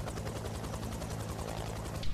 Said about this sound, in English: Sarah and Tim are looking at the helicopter